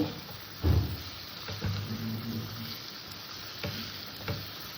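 Prawns frying in a thick spice masala, a soft steady sizzle with a heavy thud as they go in, then scattered scraping stirs and light taps against the pan.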